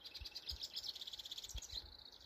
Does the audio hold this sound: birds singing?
yes